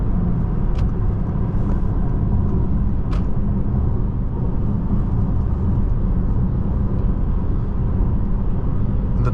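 A 2015 Audi S8 4.0T quattro's V8 engine pulls hard under throttle on a test drive, producing a steady, loud, low rumble heard from inside the cabin that holds evenly for nine seconds.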